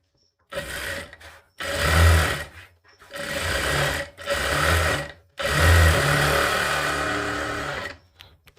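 An electric sewing machine stitches a katori blouse in several close, loud bursts of rapid whirring, separated by short pauses, with no talking.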